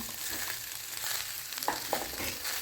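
Drumsticks (sajne data) sizzle in a pan with tomato and pre-fried potato added for a vegetarian dish, a steady close hiss with a few soft stirring knocks.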